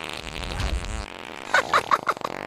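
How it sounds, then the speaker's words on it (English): A fart sounds in a short burst of several quick puffs near the end, after a stretch of low rumbling background. "He farted."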